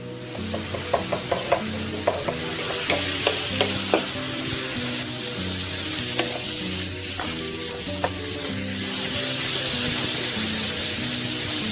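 Tomato and paprika fry in a pan for a seafood paella. A loud, steady sizzle carries throughout, with repeated stirring scrapes and clinks near the start.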